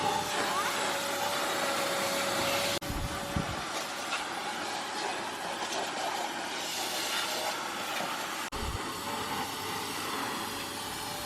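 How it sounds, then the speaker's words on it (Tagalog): A steady, droning vacuum cleaner hums continuously at close range inside a car, with a couple of brief bumps and shifts in pitch as it moves. "Si Jana nagwa-vacuum guys."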